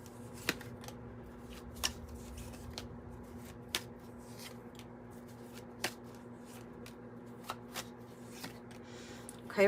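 A deck of Urban Tarot and 108 Oracle cards is shuffled quietly and close up, with soft periodic riffles and taps over a faint steady hum.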